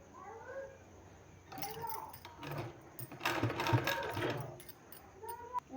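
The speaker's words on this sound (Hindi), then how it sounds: "हमको इस तरह से रखते जाना है और सिलाई लगाते जाना है" Sewing machine stitching the seam on a sleeve with pleats, a soft mechanical whirr coming in short bursts and rising in the middle, with light handling noises around it and no speech.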